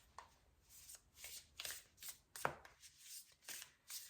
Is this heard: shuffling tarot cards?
yes